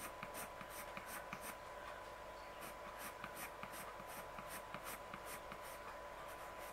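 Coloured pencil scratching on paper during a drawing of pink hair, steady close scribbling strokes in a quick repeating rhythm, quiet and alone with no talk.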